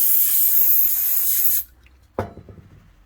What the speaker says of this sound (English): Braking fluid cleaner, or any sort of cleaner will really do, just to make sure it's got a good clean.